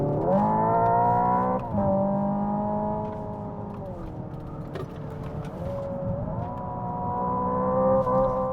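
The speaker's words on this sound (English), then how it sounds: "Let's try the simulated shifting just for ha-has." A 2025 Hyundai Ioniq 5 N accelerates at a track with simulated gear shifting, its synthetic engine tone climbing steadily, then dropping sharply at each artificial shift before rising again, loud and continuous throughout.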